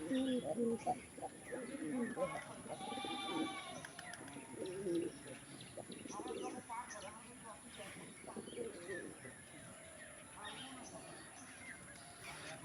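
Rajshahi Giribaz pigeons coo and murmur in repeated soft calls, with wing flutters and a person talking quietly in the background.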